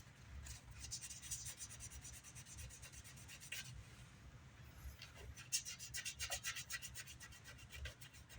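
Quiet rhythmic rasping of sandpaper rubbed by hand back and forth over the wooden body of a 1981 Gibson E2 Explorer guitar, close and soft, in short repeated strokes.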